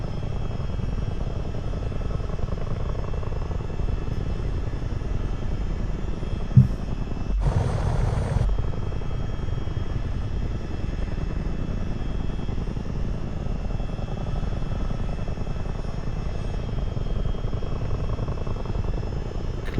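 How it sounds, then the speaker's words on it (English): Simulated Miltech CH-47 Chinook tandem-rotor helicopter in Microsoft Flight Simulator, a steady loud rotor and turbine drone running throughout, with a brief bright hiss partway through and no talking. "It's always strange with this helicopter because it's so long."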